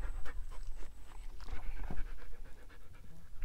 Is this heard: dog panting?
yes